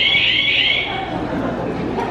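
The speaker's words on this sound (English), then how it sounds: "Please step forward and test your buzzer." A quiz game buzzer is tested on stage at a live press launch, giving one loud, harsh electronic buzz for just under a second before it cuts off, leaving a murmuring crowd and indistinct voices in the room.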